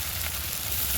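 Spice masala frying in oil in a pan, a steady, soft sizzle that holds even for a brief second, with no voices.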